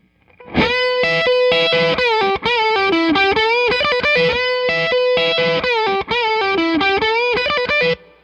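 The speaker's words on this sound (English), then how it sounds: "So then you trigger the single loop for just that lick." A distorted electric guitar phrase repeats several times in a tight loop, loud and sustained with brief gaps between repeats.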